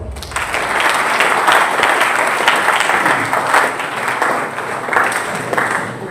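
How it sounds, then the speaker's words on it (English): Loud, sustained applause from a conference audience at a university event, a steady dense wash of clapping that holds for the whole stretch without talk. "Please join me in welcoming him with a round of applause"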